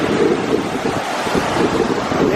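South Boulder Creek gushing through Eldorado Canyon, a steady loud rush of fast-flowing water mixed with wind buffeting the microphone, continuous and close with no voices.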